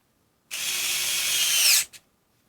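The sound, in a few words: TONE USB electric screwdriver running in reverse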